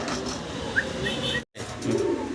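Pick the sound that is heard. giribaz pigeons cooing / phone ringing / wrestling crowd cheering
giribaz pigeons cooing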